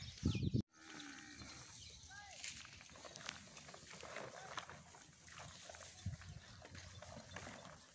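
A flock of sheep being offered for sale shuffles and calls, animal bleats mixing with footsteps and scattered movement at close range while people talk nearby.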